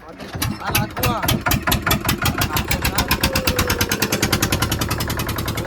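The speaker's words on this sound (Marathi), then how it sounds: "ऑटो स्टार्ट ही आमची बोटची इंजिन आहे ऑटो स्टार्ट" A boat engine fires up and settles into a loud, steady idle, its rapid, even thumping pulses filling the clip from start to finish.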